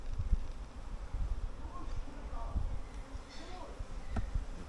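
Honeybees buzz around an open hive during an inspection, a soft, wavering drone with individual bees zipping past the microphone, mixed with handling knocks and light wind rustle.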